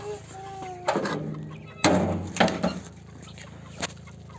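Chickens cluck and murmur nearby in a coop, with a few louder squawks and rustling bursts over a steady low background hum.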